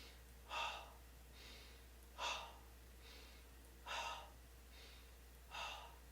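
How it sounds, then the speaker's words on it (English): Forceful exhales during a breathing exercise, four sharp breaths pushed out at steady intervals, close and alone over a faint low hum. "Let's start by exhaling all the air out."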